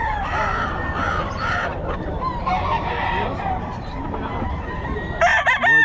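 A Golden Boy breed rooster crows loudly nearby, a long strained cock-a-doodle-doo over constant clucking of other fowl, with people talking faintly in the background.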